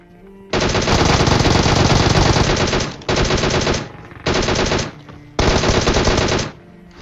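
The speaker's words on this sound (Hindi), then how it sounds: "इतना स्लो फायर रेट है इसका कि आप लगभग 8-10 सेकंड तक फायर कर ही सकते हो इससे" Bursts of rapid automatic gunfire in a video game, four loud sustained volleys of a few seconds each, separated by brief pauses.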